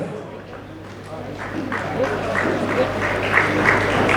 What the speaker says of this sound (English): You need to clap for them. Let's keep on clapping.